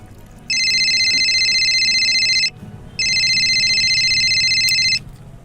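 A phone rings loudly and close, two long electronic trilling bursts separated by a brief pause, over a quiet room.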